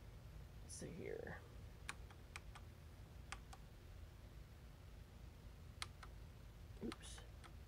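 Keys on an aging Esprit 125C serial terminal keyboard clack in sparse, crisp single taps spread through a quiet room, with a brief soft murmur from someone nearby early on.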